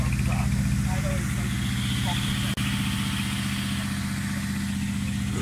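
A car engine idles steadily with a low, throbbing rumble and a loud exhaust note, holding constant throughout with a brief dropout midway; the engine is likened to a Subaru.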